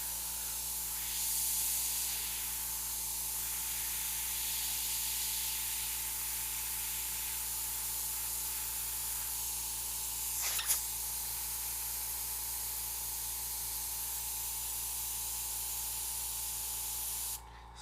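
An airbrush sprays paint in a long, steady hiss that runs almost without a break and stops abruptly near the end. A brief louder burst of spray comes partway through.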